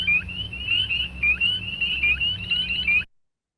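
Spring peeper frogs call in a rapid, regular series of short, high-pitched rising peeps, about three per second, loud and close over a faint low hum, then cutting off abruptly.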